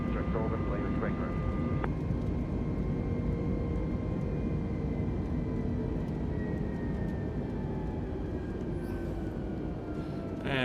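A320neo jet engines spool toward climb thrust in a flight simulator, a loud sustained rumbling roar with rising whine tones, heard under cockpit talk.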